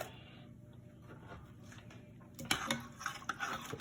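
A pot roast being stirred in a pot with flour-coated meat and gravy, giving faint scraping at first and then louder clinks and scrapes in quick bursts toward the end.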